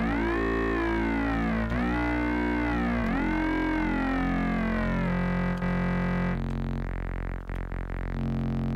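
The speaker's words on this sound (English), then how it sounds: "That's the sine wave, which I did not mean to have" Sustained synthesizer tones with sweeping, wavering pitch from oscillator sync, loud and continuous, shifting to a steadier buzzy sine-wave drone near the end.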